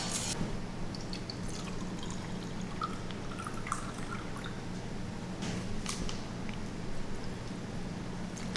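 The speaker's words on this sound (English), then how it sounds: "then we'll add about 125 mils of this thin syrup into the Ziploc bag" Thin syrup is poured into a Ziploc bag of apples being prepared for freezing, giving soft trickling and dripping with plastic crinkles over a steady background hiss, close and fairly quiet.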